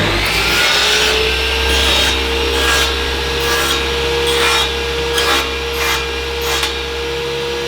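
A cheap Jasper table saw, about a $100 model, runs with a steady motor hum and whine while cutting wood, with rasping bursts as the blade passes through the workpiece. No one speaks.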